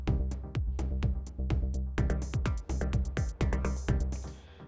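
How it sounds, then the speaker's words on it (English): A techno scene programmed on an Akai Force: punchy kicks, 16th-note hi-hats, claps, extra percussion and a synth arpeggio playing in a steady driving loop, loud and up front, without any voice. "Our second phase, the hi-hats go up to 16th notes. We get some extra claps and percussion in there, and we have a synth coming in playing an arp as well."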